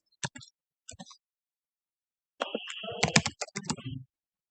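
Someone types a child's name into an online registration form on a computer keyboard: a short flurry of close, crisp key clicks follows two isolated taps, with no talking over them.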